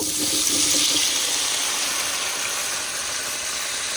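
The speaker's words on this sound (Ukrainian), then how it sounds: "Кукурузка смажиться сало вже посмажилось, сиплемо картопельку." Potatoes tipped into a frying pan with corn and rendered lard at an outdoor spot by the Black Sea, with a brief clatter at first and then a loud, continuous sizzling hiss close up.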